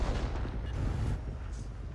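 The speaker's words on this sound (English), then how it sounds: "he gets a cupola shot on the KV5" A tank gun shot striking the cupola of a KV-5 heavy tank in World of Tanks: a heavy, booming blast with a rumbling tail lasting about a second, then a fainter low rumble.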